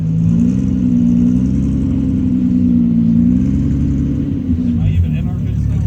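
An endurance race car at a ChampCar 12-hour event idles and warms up close by, its engine a steady loud drone that stays even and continuous, with slight shifts in pitch near the end.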